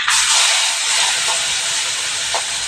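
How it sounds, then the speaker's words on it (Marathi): Ivy gourd dropped into a hot cumin, asafoetida and turmeric tempering sizzles loudly and steadily, a dense, continuous frying hiss that holds throughout. "आणि आता ही वर मी तोंडली टाकणार आहे फोडणीला"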